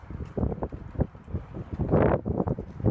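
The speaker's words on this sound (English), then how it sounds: "And it's windy." Gusty wind buffets the microphone outdoors, rumbling and fluttering unevenly with a stronger rushing gust partway through.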